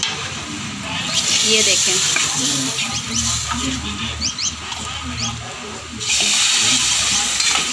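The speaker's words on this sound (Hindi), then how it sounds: "अब वो हम इसके अंदर ऐड करने लगे हैं, तड़का लगाने लगे हैं।" Hot spices sizzle continuously in oil as a tadka is added to karhi pakora in a home kitchen, a loud steady hiss with stirring and brief crackles, and someone speaks briefly over it.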